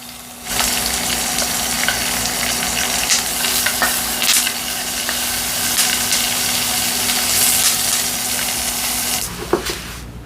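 Pollock roe (myeongran) fries in oil in a pan with a steady, close, crackling sizzle that runs almost unbroken and stops just before the end.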